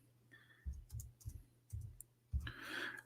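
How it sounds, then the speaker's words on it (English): Typing on a computer keyboard: a few irregular clusters of clicky keystrokes close by, with a low hum beneath and a brief broadband burst at the end. "Excuse my keyboard"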